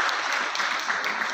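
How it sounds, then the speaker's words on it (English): Audience applause fills a room at the close of an entertaining talk session: steady, dense clapping from many hands, fairly loud and continuous with no voices over it. "let us give her a huge round of applause"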